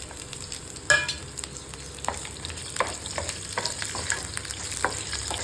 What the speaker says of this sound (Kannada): ಚಕ್ಕೆ, ಮೆಣಸು, ಜೀರಿಗೆ ಮತ್ತು ಒಣಮೆಣಸಿನ್ಕಾಯಿನ ಹಾಕಿ ಫ್ರೈ ಮಾಡ್ಕೊಳ್ತಾ ಇದ್ದೀನಿ